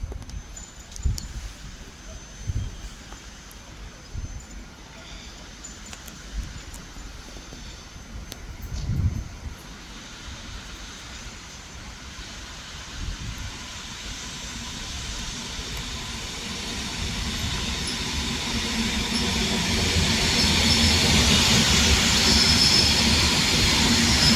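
A train, a Polish multiple unit, rolling into a station along track four beside platform three, with a low rumble growing steadily louder over the last ten seconds, a few clanks early on, no talk.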